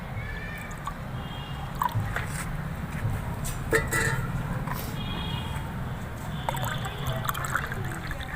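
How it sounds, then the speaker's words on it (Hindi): Water is poured into a glass holding a little jeevamrit, an organic liquid fertilizer, making a soft liquid trickle and splash amid faint clinks and background noise. "इसमें पानी ऐड करने के बाद सीधे पौधे में डाल देना है"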